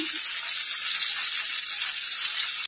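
Cauliflower florets frying in hot white oil, a steady, loud sizzling hiss that stays even and continuous from start to finish, with no pauses until it cuts off abruptly.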